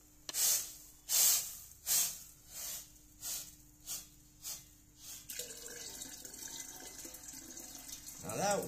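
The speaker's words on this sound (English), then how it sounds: "now I'm going to go ahead and take this water and I'll put it in my 10-liter." Hot water being poured into a 10-liter container, a steady close pouring rush taking over after a run of breathy bursts, continuing to the end.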